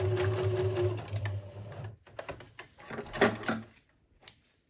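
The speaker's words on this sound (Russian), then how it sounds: "И получившийся шов буду отстрачивать двойной иглой." A domestic sewing machine topstitching a sweatshirt seam with a twin needle runs in a steady buzzing stretch, pauses, then starts again in shorter bursts with handling clicks, close and moderately loud.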